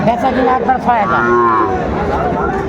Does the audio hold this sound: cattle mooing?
yes